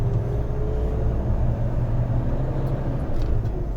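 A car pulls away and drives on, a steady low engine and road rumble heard from inside, even and unbroken for a few seconds without talking.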